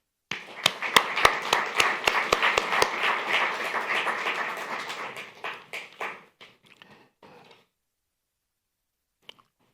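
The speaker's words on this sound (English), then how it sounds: "give them a round of applause" Applause from an audience at a city's state-of-the-city address, a burst of many hands with a few loud individual claps that thins out and stops after about seven seconds, leaving near silence.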